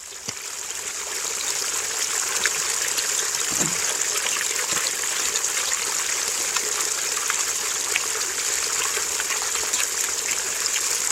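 Topanga Creek in the Santa Monica Mountains flows steadily, a constant hiss of rushing water heard close up and alone, with no voices.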